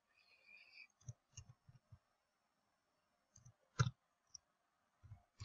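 Quick, faint clicks of keys on a keyboard as a password is entered, a short burst and then a few scattered taps after a pause, with one louder click, close and quiet with no talking.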